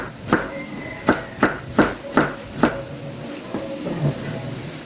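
A knife chops onion on a board: six crisp, evenly spaced close thuds, followed by softer, quicker cuts, with faint room noise and no talk over the chopping.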